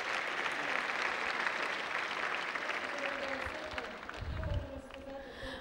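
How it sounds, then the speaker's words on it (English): A church congregation applauding during a Sunday worship service, a sustained wash of clapping from a crowd, fairly close, fading toward the end as a voice speaks over it. "Give applause to Him."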